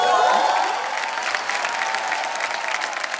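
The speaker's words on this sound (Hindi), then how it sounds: "एक बार जोरदार तालियां हो जाए।" Studio audience applause at a Hindi comedy show rises loud at first, then settles into steady, dense clapping that carries on to the end.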